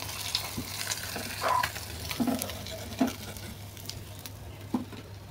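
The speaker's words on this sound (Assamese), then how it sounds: "এয়া মোৰ মাছখিনি ভজা হৈ গৈছে" Climbing perch fish fry in hot oil in a kadai with a continuous sizzle. Scattered pops and light knocks punctuate it.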